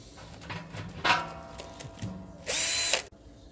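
A cordless drill bores into a metal brewing kettle while a water heater element is fitted, short whirring bursts with clatter between them, ending in one longer loud run, close by.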